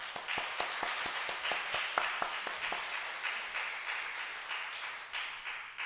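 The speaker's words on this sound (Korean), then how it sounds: "지금 여러분 박수로 환영해 주시고" A church congregation at a groundbreaking worship service claps to welcome guests, a fairly faint, brisk patter of many hands that starts with sharper individual claps and settles into an even, steady round.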